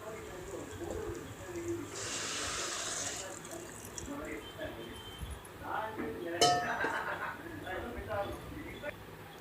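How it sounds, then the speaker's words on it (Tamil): Water is poured into rice in a pressure cooker for a vegetable biryani, a brief splashing burst near the start followed by light clinks, with birds cooing in the background. "இந்த தண்ணியை இந்த ரைஸோடு ஆட் பண்ணிவிடுவோம்."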